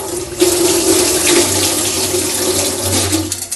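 Macaroni is washed under a running kitchen tap before cooking, with a steady, loud stream of water splashing continuously and no voices.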